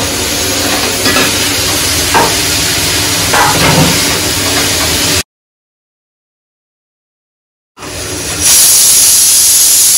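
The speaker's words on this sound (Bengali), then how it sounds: "এবার কেটে রাখা পটল আর আলুগুলো দিয়ে দিচ্ছি।" Chopped pointed gourd and potatoes tipped into a hot pan, sizzling loudly with stirring and scraping, broken by a gap of silence before a louder frying hiss resumes.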